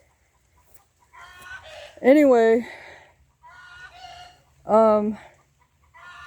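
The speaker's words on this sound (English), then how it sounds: "Sorry about the chickens in the background." Backyard laying hens cluck softly and let out two loud, rising squawks a few seconds apart, with a person speaking briefly between them.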